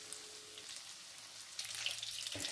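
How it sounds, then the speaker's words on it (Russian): Soft, steady sizzling of cheese sticks frying in an unevenly heating pan, close and fairly quiet, with a slight swell in intensity partway through. "Переворачиваем и еще обжариваем до готовности."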